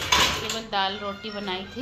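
Dishes and pots clatter in a home kitchen with a few sharp clinks near the start, then someone talks over quieter handling of utensils.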